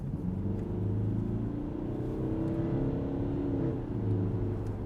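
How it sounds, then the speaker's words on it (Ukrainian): An older diesel Mercedes-Benz E-Class accelerates hard to overtake, its engine droning loud and close from inside the cabin with a steady, slightly rising pitch and no voices. "от, наприклад, ми їдемо, треба обігнати"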